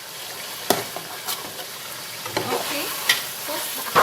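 Chopped tomatoes stirred in a hot sizzling pan, a soft continuous fry punctuated by a few sharp scrapes and clatters of the spoon against the pan, with a brief spoken word in between.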